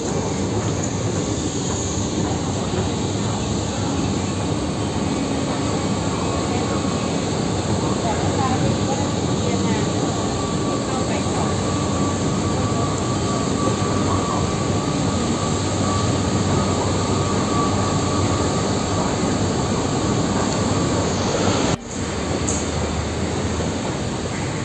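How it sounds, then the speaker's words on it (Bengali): A Bangkok MRT underground metro train runs with a continuous loud rumble and rail noise, a steady ride throughout with a brief sharp click near the end. "আমি একটু ভিডিও করে দেখাচ্ছি মেট্রো রেলের লিঙ্কে।"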